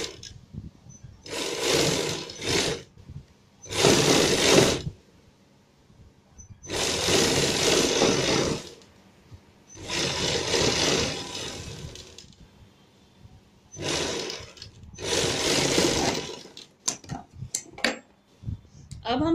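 A sewing machine stitches coat collar fabric in several loud bursts of rapid running, each lasting one to two seconds and separated by short pauses, with quicker stop-start runs toward the end.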